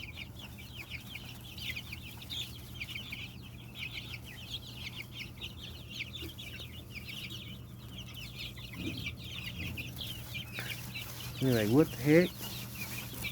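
Several chickens cluck softly throughout, with a person talking over them and a louder burst of squawking near the end.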